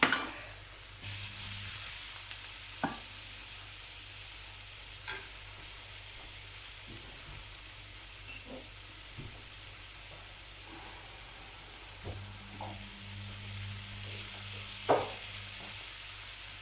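Onion sizzles and fries in a pan for a tagine, giving a steady, fairly quiet hiss with a few soft taps and spatters scattered through it.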